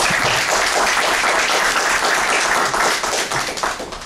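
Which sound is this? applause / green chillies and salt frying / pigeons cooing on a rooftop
applause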